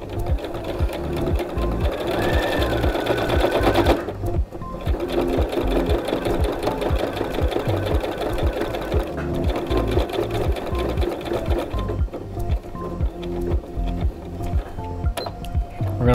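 A sewing machine stitches a fabric envelope book cozy with a loud, rhythmic run of needle beats that goes on nearly the whole time, easing slightly near the end.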